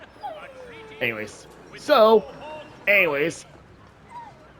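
A dog whimpers and yips while being petted: several short, high, wavering whines come close and loud with pauses between them, and someone says a word softly at the start.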